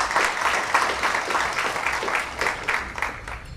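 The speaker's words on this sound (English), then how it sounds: "So I would like you to give a round of applause to that." A round of applause from an audience at an award ceremony held by the National Service Association of North America; dense, continuous clapping with slight surges, sustained through the whole short stretch.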